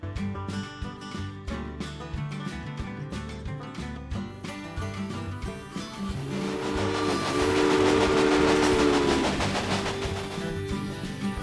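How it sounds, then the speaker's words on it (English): Locomotive running in the railway strategy game Railway Empire, a steady rolling train sound with music-like tonal layers and a long steam whistle blast rising midway, loud and alone without talk. "Now you can see the journey your train will take."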